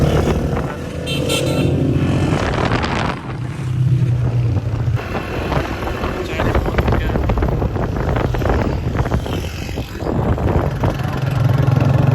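Rickshaw engine droning steadily while riding along a road, a loud continuous rumble with wind buffeting the microphone and a voice talking over it at times.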